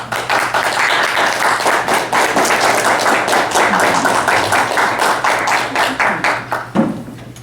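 An audience at a Toastmasters meeting claps steadily to welcome a speaker, a dense, sustained round of applause from a roomful of people that fades out at the end.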